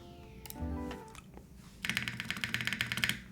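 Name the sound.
typing test on Block67 mechanical keyboard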